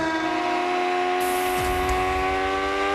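A McLaren Formula One car's engine, rated above 800 horsepower and revving toward 18,000 RPM, holds a steady, high-pitched, harmonic whine throughout, loud and close, with no voices.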